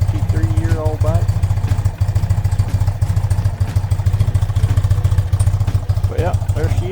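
A 33-year-old vintage BMW motorcycle engine idles steadily with the choke off, a close, loud, even low thrum of rapid firing pulses throughout, with faint voices briefly over it.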